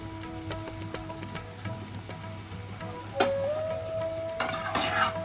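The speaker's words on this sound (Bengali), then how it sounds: "হালকা হাতে একটু নাড়াচাড়া করে দিচ্ছি।" Mixed vegetables with prawns, tomato and green chilli are gently stirred in a pan, giving soft scraping and a steady low sizzle. A faint tonal hum runs underneath, and no one speaks.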